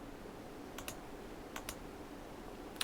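Clicks on check marks in JASP statistics software, heard as a few quiet, sharp paired clicks spaced about a second apart over a soft, steady background hiss, with no voice.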